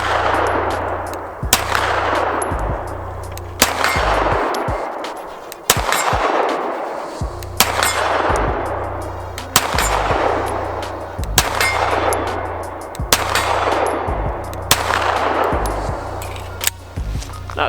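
Nighthawk Custom 1911 pistol fired at a distant target, eight loud, evenly spaced shots roughly two seconds apart, each followed by a long, rolling outdoor echo.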